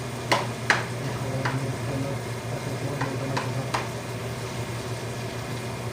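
Eggplant fries with spices in a pan, a steady low sizzle with a few sharp stirring clicks and scrapes near the start and middle, close and moderate, with no voices.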